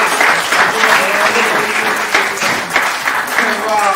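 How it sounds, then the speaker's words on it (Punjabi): Strong, continuous applause from an audience at an art camp and exhibition, dense clapping filling the hall for the full stretch, with some voices mixed in beneath it. "ਜ਼ੋਰਦਾਰ ਤਾੜੀਆਂ ਜੀ"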